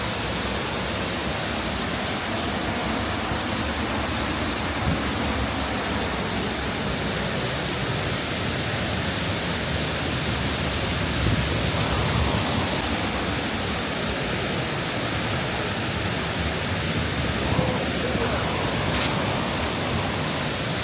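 Waterfall spray driven by wind at a natural campsite, a dense, constant hiss of rushing water close by, unbroken for the whole stretch with no voices.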